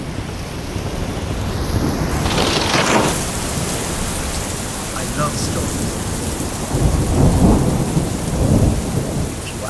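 A thunderstorm in 3D audio: steady heavy rain hisses throughout while deep thunder rumbles and cracks roll in, loud and close, with a brief spoken line early on.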